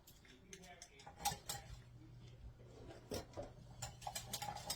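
Heavy whipping cream and one egg are whisked together in a bowl, producing quick clinking, tapping strokes of a utensil against the dish, fairly close and moderately loud, with some talking in between.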